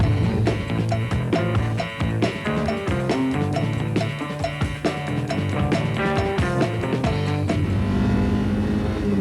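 A car on a downhill racing circuit braking, dropping into third and accelerating through a bend, engine loud and close with rapid revving and gear changes, no talk.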